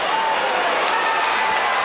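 A crowd murmurs and stirs at a state finals high school wrestling match, a steady, fairly loud wash of voices and rustling that holds evenly throughout with no distinct cheer or clap standing out.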